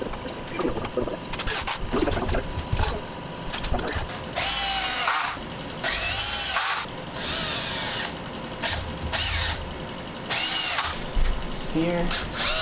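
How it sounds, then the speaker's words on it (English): A power drill drives screws into wood while a budget chicken coop and brooder is built, several whining bursts of a few seconds each rising and stopping, with handling clatter and some speech between them. "we're going to put screws in."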